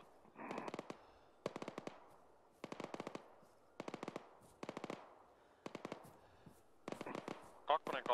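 Repeated bursts of automatic gunfire in Arma 3, about seven short volleys of rapid shots at a steady rhythm, moderately close, with a few sharper cracks near the end.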